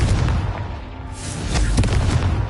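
The Confringo explosive spell in Hogwarts Legacy goes off as deep booming blasts, loud and close, with a couple of sharper bursts amid rumbling game noise.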